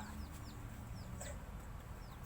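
Laying hens clucking and chicks peeping against a steady low background hum, with several short chirping calls scattered through the moment.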